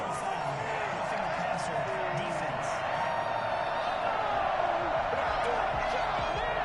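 Stadium crowd at a football game voicing disapproval of a roughing penalty, a broad, sustained murmur of boos and shouts from a distance, steady and fairly faint.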